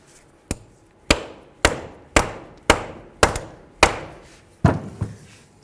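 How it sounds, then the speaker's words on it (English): A rubber mallet strikes the front axle end on a 2008–2012 Jeep Liberty. Seven or eight dull, solid knocks land at a fairly even pace, each decaying quickly, close and alone in a quiet space. "I'm going to give the end a couple bonks with my rubber mallet."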